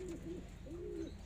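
A domestic pigeon coos softly in a couple of low, rolling phrases, fairly close but quiet, over a steady background hum.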